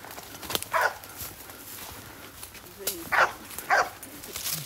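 A search dog in box search training barks in a few separate bursts, one early and two close together later, moderately near and loud against a noisy background.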